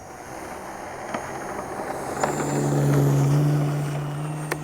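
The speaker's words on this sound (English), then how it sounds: "We'll do a flapless takeoff, gear up, and then pitch up." Electric Hangar 9 Ki-43 Oscar RC plane taking off, its motor whine swelling to a loud, steady tone as it passes nearby, then easing off, over outdoor background noise.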